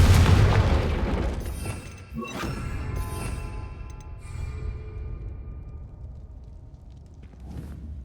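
Confringo fire spell blast in Hogwarts Legacy: a heavy booming explosion up front, then several crackling bursts and thuds fading over the following seconds, with a smaller pop near the end.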